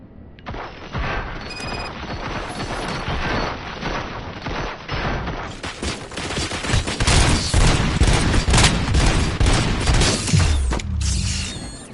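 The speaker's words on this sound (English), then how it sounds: "Fire at will." Heavy gunfire erupts in RoboCop: Rogue City, dense rapid bursts and booms layered with mechanical clatter, loud and sustained for several seconds.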